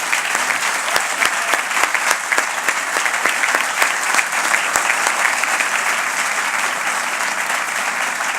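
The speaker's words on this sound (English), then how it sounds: "I'd like our deputy commissioners to stand and receive a grateful round of applause from all of us here." Sustained audience applause in a hall at a corrections department fiftieth anniversary ceremony, honoring deputy commissioners; dense, steady clapping from a large crowd, loud and even throughout with no talk over it.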